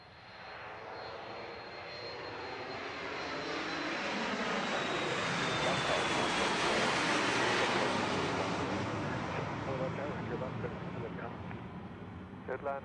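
A departing airplane at Dallas Love Field airport roars steadily, building to a loud peak midway and then easing slightly while still running, with distant radio-style voices faintly under it.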